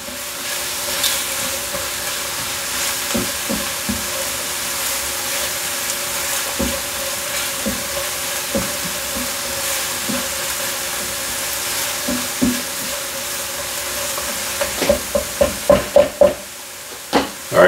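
Mushrooms sizzle steadily in a hot pan for a mushroom Swiss burger, with a continuous hiss broken by scattered spatula scrapes and taps against the pan. A quick run of sharper knocks comes near the end.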